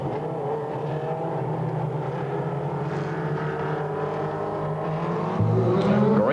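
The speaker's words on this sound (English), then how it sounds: "Green flag, and it's Rodney Childers nailing the throttles" Legend race cars accelerate at the green flag of a 1996 Concord winter race, a steady droning roar of several engines that swells louder near the end.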